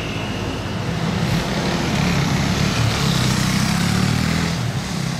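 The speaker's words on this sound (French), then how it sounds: "Vous avez vu le DBX qui est passé, c'était encore la team de MrBeast" An Aston Martin DBX 707 drives past on a Monaco street, its steady engine rumble and road noise holding loud and close throughout with no break.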